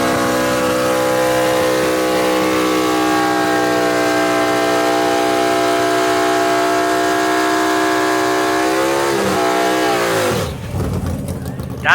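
Gasser drag car doing a burnout on Mickey Thompson tires at Knoxville Dragway: a loud, sustained high-revving engine wail with tire squeal, pitch sliding down near the end as it lets off, then abruptly cut off.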